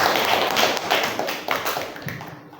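In a classroom, a group claps for a few seconds in a dense, uneven patter that thins and fades toward the end, close and fairly loud, with no talking over it.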